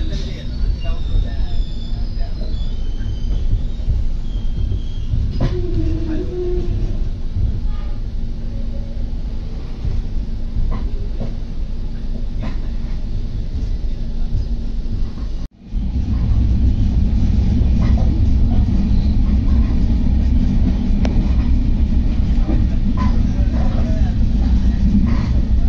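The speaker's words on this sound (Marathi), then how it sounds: "हे आहे सावर्डा रेल्वे स्टेशन." Konkan Railway train at Savarda railway station, heard as a steady, loud rumble of wheels and carriages from on board. A brief dropout comes midway, and the heavy rumble resumes fuller afterward.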